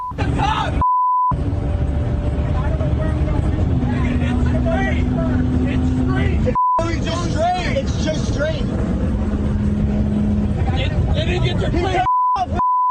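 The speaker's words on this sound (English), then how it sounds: "the passengers yell over the roar of the sports car's engine" A sports car's engine roars at high speed during a police chase, a loud steady drone with wind and road noise filling the cabin while passengers talk and shout over it, broken by a few brief electronic beeps.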